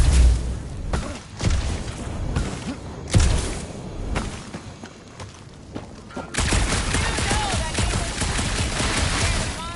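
Heavy gunfire and thumping blasts in Marvel's Guardians of the Galaxy, bursts of shots and booms with brief lulls, then a dense, steady barrage, loud and close.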